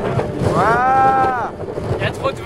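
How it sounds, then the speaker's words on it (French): Strong wind gusting across a microphone outdoors on a mountain trek in Norway, a loud, steady roar with a brief whistling tone rising and falling in the middle. "il y a trop de vent."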